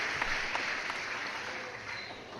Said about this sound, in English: This one's got crowd noise in the background